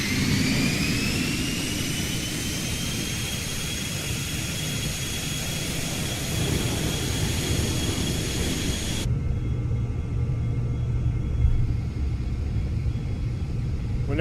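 Jet engines of an Embraer E170 in a flight simulator spool up with a steady, loud roar and rising whine, which cut abruptly partway through to a lower cabin rumble.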